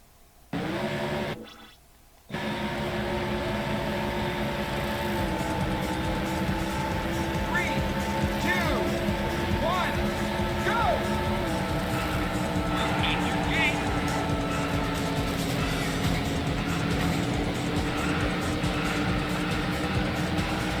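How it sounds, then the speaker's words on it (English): Race car engines in an emulated racing video game on a Raspberry Pi–class retro setup: a short start-up burst, then a steady, continuous engine drone with shifting pitch and occasional tire squeals, fairly loud, under a speaking voice. "Ladies and gentlemen, start your engines."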